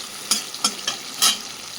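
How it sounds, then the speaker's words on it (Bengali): Beans and capsicum fry in a pan for fried rice, a bright steady sizzle with four quick stirring scrapes spaced unevenly, loud and close, without speech. "এবার এখানে আমি বিনসগুলো ভেজে নেব"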